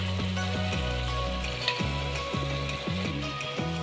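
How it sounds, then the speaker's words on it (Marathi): Whole masoor lentils go into an onion masala already frying in a pan for a dhaba-style dish, under a steady loud sizzle of hot oil with a few light stirring scrapes and a low hum behind it. "आता आपण अख्खे मसूर घालूया।"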